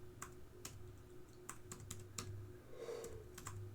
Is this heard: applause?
no